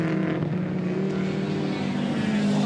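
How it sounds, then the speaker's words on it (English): A Ford Anglia race car competing in the St Mary's Trophy at Goodwood drones past at a steady, moderately loud engine pitch, alone with no voices. "Coming upon the Theo Paphitis Anglia again"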